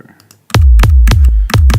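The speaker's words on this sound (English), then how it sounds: "That definitely is a trance kick." A booming trance kick drum from electronic music production thumps about five times at a steady dance tempo. Each hit is loud and punchy with a deep decaying tail, played alone after a brief quiet start.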